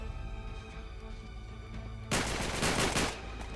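A burst of rapid gunfire in Uncharted 3: Drake's Deception lasts about a second, loud over a steady bed of game music.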